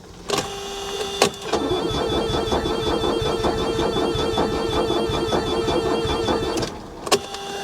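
A Mercedes S420 engine cranking on a booster pack, the starter churning in a steady, even rhythm for several seconds without catching, bracketed by sharp clicks at start and finish.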